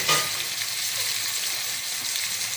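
Tomatoes sautéing in a pan for chicken masala, a continuous close hiss of sizzling oil with faint stirring, steady throughout with no talk.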